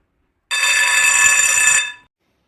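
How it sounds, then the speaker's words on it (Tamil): A school bell rings in one continuous bright electric burst lasting about a second and a half, loud and close, starting abruptly and fading quickly at the end, with no voices over it. "சார், பெல் அடிச்சாச்சு. நம்ம கிளாஸ்க்கு போவோம்."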